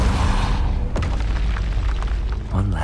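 A deep, rumbling fire-spell blast from Confringo in Hogwarts Legacy fills the clip with a heavy, low boom and a sharp crack partway through. A creature grunts faintly near the end.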